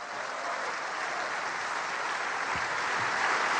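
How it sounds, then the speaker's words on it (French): Sustained, even applause from members of the French parliament, a steady ovation of many hands clapping together at moderate distance, holding its level without breaks. "L'ovation dure plusieurs secondes, des applaudissements soutenus."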